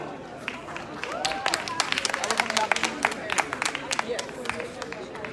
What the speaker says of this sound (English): please give our esteemed panel a round of applause